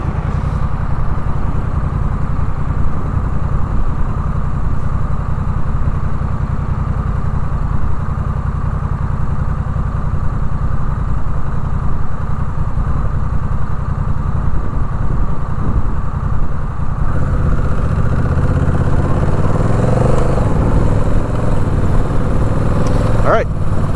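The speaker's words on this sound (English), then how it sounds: "This bike is heavy, and this bike's getting blown around underneath me." Honda Rebel 1100 cruiser riding on a commute in strong gusting wind, with a steady engine drone beneath loud wind buffeting that swells sharply near the end; a rider talks over it.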